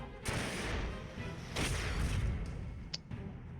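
A piercing missile fires in the Front Mission 4 mech game, a sharp burst followed by a rough, booming rush and rumble, with a brief bright crack near the end.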